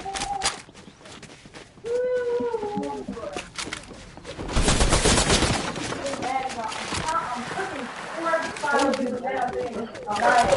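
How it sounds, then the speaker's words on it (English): Gunfire in a video game rattles in bursts aimed at the player, a dense volley in the middle with scattered shots around it, while people talk over the action. "Somebody's shooting you, snipe them."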